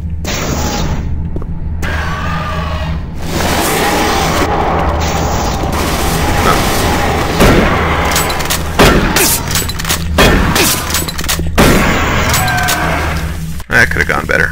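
Gunfire in Doom 3 aimed at an imp: a fast run of loud booming shots and blasts, close and dense, overlapping with game effects throughout.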